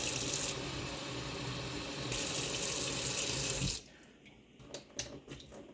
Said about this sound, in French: Et nous allons mettre un peu d'eau.